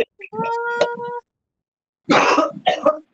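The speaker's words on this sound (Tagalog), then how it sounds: "Yeah, naubo lolo." An elderly man coughs in two short bursts, a brief pause between them, close by, with a vocal-like tone and a stretch of silence in the middle.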